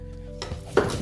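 Spaghetti carbonara tossed in a pan: metal pan and utensils clatter and scrape, with a sharper knock near the end, close and moderately loud with no talking.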